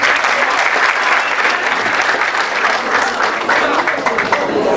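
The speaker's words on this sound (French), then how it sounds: "Encore des applaudissements, s'il vous plaît." Loud, sustained crowd applause fills a graduation ceremony hall at UPAG in Gonaïves, a steady dense wash of many hands clapping with no pause.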